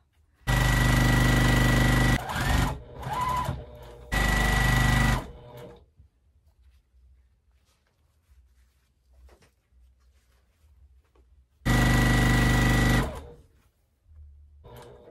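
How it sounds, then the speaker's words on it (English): A sewing machine stitching quilt blocks together runs in loud, close bursts of rapid mechanical whirring, with a long quiet pause before a final run. "So let's get these sewn together."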